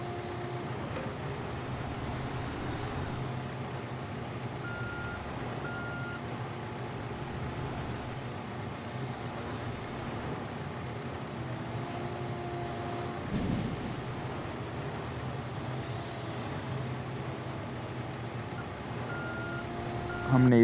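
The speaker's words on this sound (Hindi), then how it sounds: "अब हम इसे डंप ट्रक में डाल देते हैं।" In the Construction Simulator 3 video game, a dump truck is loaded with soil from a digger bucket, with a steady engine drone and faint, spaced reversing beeps and no talk.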